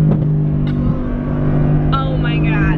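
A Mercedes-AMG GT R in Sport Plus mode drones with a strong, steady engine tone heard from inside the cabin, with pitch sweeps as it shifts and a voice speaking over it.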